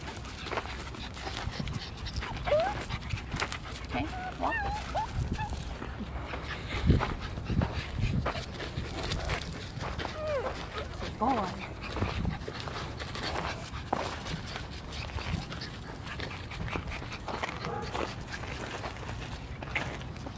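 A German Shepherd being temperament tested off leash in a dog park pants steadily and close, with soft whimpers, paw steps and faint background noise throughout.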